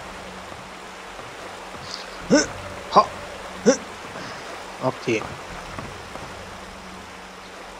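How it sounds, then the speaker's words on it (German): A nearby waterfall in the video game Gothic 1 gives a steady, soft rushing wash throughout, while someone speaks a few short words over it. "Schön ein Wasserfall in der Nähe."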